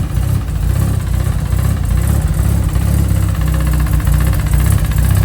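A bridge-ported 13B rotary engine in a Mazda RX8 drift car idles roughly and loudly, with a steady, choppy low-frequency burble and vibration held throughout, no talking.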